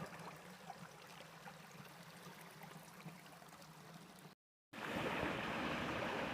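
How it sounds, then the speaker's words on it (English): A stream rushes and gurgles steadily over rocks, a continuous broadband flow that grows louder after a short gap; no voices. "It's a really good sized stream with a lot of nice rock."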